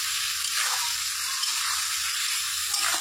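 Fish curry masala with eggplant frying in a pan, heard as a dense, even hiss of sizzling oil with faint stirring throughout, no voices.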